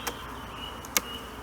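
Honeybees at an opened hive fitted with a queen excluder, giving a faint, steady buzzing broken by a couple of soft clicks.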